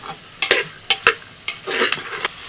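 Spiced masala for ghugni is sautéed and stirred in a pan: a soft sizzle sits under sharp, irregular spatula scrapes and strokes, close and fairly loud.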